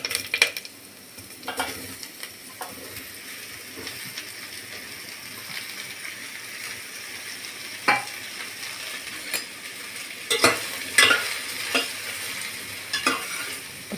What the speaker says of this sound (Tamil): இப்போ காளான் வதங்குது.